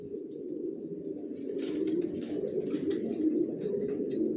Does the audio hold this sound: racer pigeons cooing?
yes